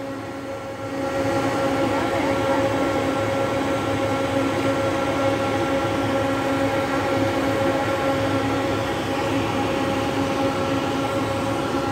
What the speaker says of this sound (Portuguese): ele tá mandando sair o trem já